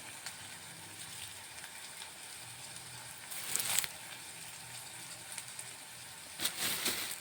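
Ingredients for a white bitter gourd thoran sizzle in hot coconut oil with curry leaves: a steady, close frying hiss with brief louder crackling flare-ups as things are stirred.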